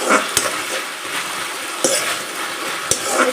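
A spoon stirs soy sauce and other sauces through paneer chilli in a hot pan on full flame, a steady scraping sizzle broken by a few sharp metallic clinks against the pan.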